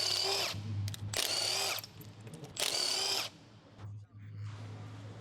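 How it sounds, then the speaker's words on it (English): An electric impact wrench with a 19mm long socket zipping rear wheel lug nuts off a 2011 Mazda 3, three loud whirring bursts about a second each with quieter gaps between, close by. "Using the 19mm long socket with the electric impact wrench, remove the rear wheel lug nuts."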